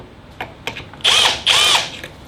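Power drill boring into wood through a Kreg 720 pocket-hole jig, two short loud whirring bursts close up, preceded by a few faint clicks and taps.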